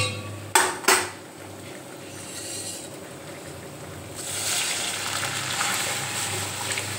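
Two sharp metal clanks of a pot or spoon come first, then after a quiet pause a loud sizzle bursts up and holds steady as lentil dal, boiled with salt and turmeric, hits hot oil with fried onion.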